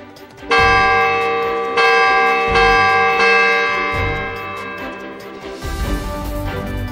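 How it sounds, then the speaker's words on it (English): A chiming bell from the Wii game Ultimate I Spy rings out loudly, several bright ringing strikes in sequence that each decay slowly and overlap, with no talk. "A bell."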